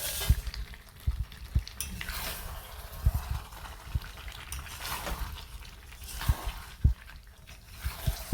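Fried potatoes tipped into a pan of chicken curry cooking with sugar, followed by continuous frying and sizzling with repeated sharp knocks and scrapes of a spoon stirring against the pan, close and without talk.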